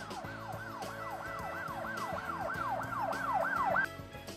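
A wailing cartoon police car siren sweeps up and down repeatedly over background music, growing slightly louder before cutting off near the end.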